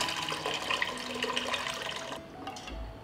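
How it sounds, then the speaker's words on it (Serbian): Water poured from a jar into a cooking pot, a continuous close splashing gush that tapers off after about two seconds, leaving a faint trickle. "vodu iz tegle sipaću u šerpu"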